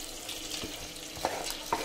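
Onions cook in a pan with a soft, continuous sizzle, broken by a couple of short scraping or stirring sounds.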